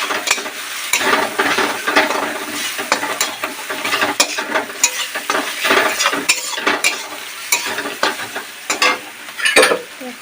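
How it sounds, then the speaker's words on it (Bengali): Ground cumin, chili and Kashmiri red chili powders sizzling in oil while being stirred for a jackfruit and prawn curry; a loud, close frying hiss with frequent scraping strokes and clinks of a spoon against the pan, no voices. "এবার এটাকে ভালো করে আমরা কষিয়ে নেব।"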